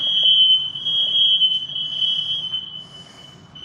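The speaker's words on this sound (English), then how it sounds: "They're testing the fire alarms again." A building fire alarm under test sounds as one loud, steady high-pitched electronic tone held without a break throughout, over a low background murmur.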